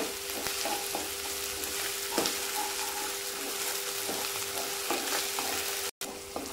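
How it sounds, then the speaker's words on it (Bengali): Ginger garlic paste and onions fry and sizzle in a pan for an egg curry, with a steady soft hiss broken by occasional scrapes of stirring, fairly quiet and without talk. "আদা রসুন বাটা দিয়ে দিলাম, দিয়ে আরও কিছুক্ষণ নাড়াচাড়া করে নেব যাতে আদা রসুনের কাঁচা গন্ধটা চলে যায়"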